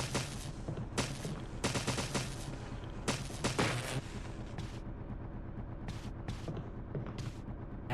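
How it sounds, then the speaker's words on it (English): Shotgun blasts in the Resident Evil Remake video game, several sharp loud bursts in quick clusters over a busy game soundtrack, with a few fainter shots near the end. "one shotgun blast to the head doesn't always kill him"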